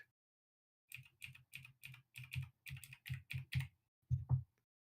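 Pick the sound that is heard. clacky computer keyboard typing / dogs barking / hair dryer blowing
clacky computer keyboard typing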